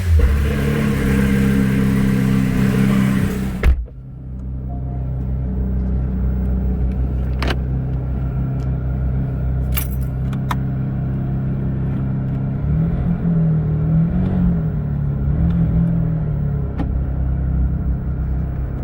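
A Porsche 911 GT3 RS engine cold starts with a loud high rev, then drops to a deep, steady rumbling idle that continues, close by.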